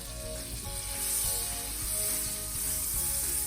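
Butter sizzles steadily in a small frying pan over medium heat, a continuous crackling hiss with faint scraping, no voices.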